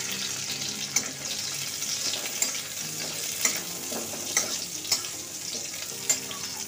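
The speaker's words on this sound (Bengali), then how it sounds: "সিম করেই এইগুলো ভাজছি, পুড়ে গেলে ভাল লাগবে না" Raisins frying in oil over a very low gas flame make a soft, even sizzle, with a light spatula tap or scrape about once a second, close by and without speech.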